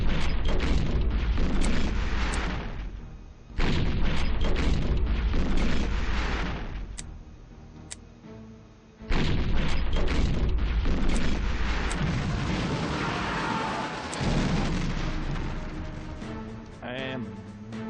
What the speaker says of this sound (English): start bombing